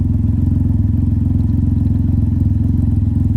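Can-Am Ryker exhaust with the baffle removed, a deep, loud, steady engine rumble with a throbbing low pulse, close and continuous for a few seconds with no talk.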